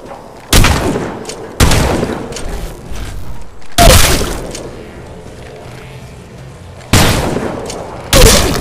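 Loud bursts of gunfire in Apex Legends Mobile, several sharp volleys spaced a second or two apart with quieter rattling and game noise between them.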